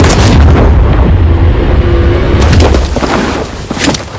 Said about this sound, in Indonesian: Utsubo pun melemparkan sebuah bom